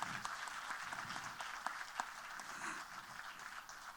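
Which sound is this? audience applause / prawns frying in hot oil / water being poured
audience applause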